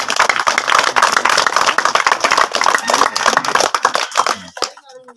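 Crowd at a village magic-and-dance show clapping together in a dense, steady burst of applause that fills the clip, tapering off into a brief pause and a voice near the end.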